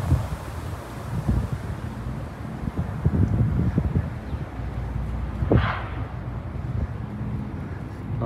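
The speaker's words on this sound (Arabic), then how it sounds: "في هواء شويه ما عليه" Outdoor wind on the way toward a mountain, a continuous low buffeting rumble against the microphone with gusty surges throughout, fairly loud and with no voices.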